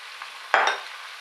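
A spoon swirls once through tomato soup in a pot on the stove, a single short scraping slosh over a soft steady simmer.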